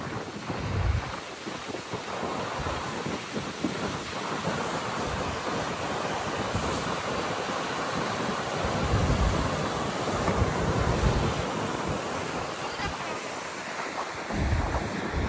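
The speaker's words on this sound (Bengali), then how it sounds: "এই সেই নায়াগ্রা জলপ্রপাত।" Niagara Falls on the Buffalo, USA side roars as a continuous broad rush of falling water, mixed with gusty wind blasts and deep low rumbles that swell and ease over fifteen seconds.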